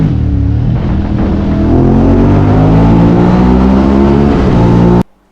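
A Ducati Hypermotard engine roars loud and close as the motorcycle accelerates hard, its pitch climbing steadily through the revs for about five seconds before cutting off abruptly.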